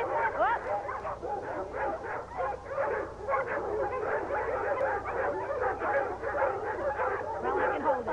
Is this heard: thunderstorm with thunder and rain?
no